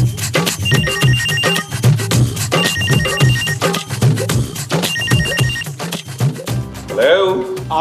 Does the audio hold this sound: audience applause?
no